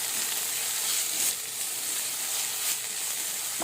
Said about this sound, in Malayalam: ചാട്ട് തയ്യാറാക്കുന്നതിനായി നമ്മൾ വെണ്ണയിൽ ഇതൊന്ന് വറുത്തെടുക്കുകയാണ്